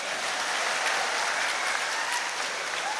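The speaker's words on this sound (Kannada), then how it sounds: "ಚಪ್ಪಾಳೆ ಜೋರಾಗಿ ಹೊಡಿರಿ." A large crowd applauds at a Chief Minister's public speech at a Survey Day event in Shivamogga. The clapping is continuous and even, like a wash, heard from a distance without breaks or talking.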